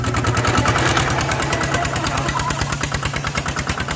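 A motorcycle with a ZT155 engine on an NT16 frame chugs along slowly in first gear, its close, loud exhaust beating in a fast, even rhythm of pulses throughout.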